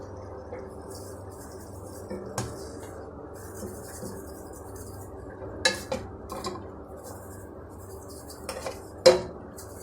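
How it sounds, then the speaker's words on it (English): Minced beef filling for stuffed grape leaves being stirred with ajinomoto, giving soft scraping and clinking of a utensil against a bowl, with a few sharper knocks, close and moderately quiet. "And then you just stir it a bit so the ajinomoto will mix."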